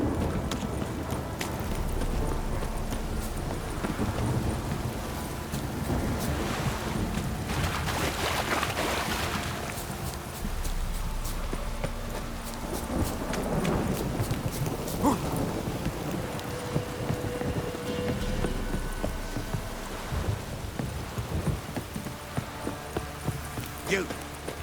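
Steady rain with occasional low thunder rumbles in The Witcher 3 video game, alongside clip-clopping horse hooves and frequent character talk over the downpour.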